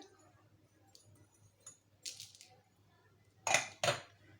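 Yeast, powdered sugar and salt are stirred together in a bowl, giving a few sharp clinks and scrapes of a spoon against the bowl over an otherwise quiet background.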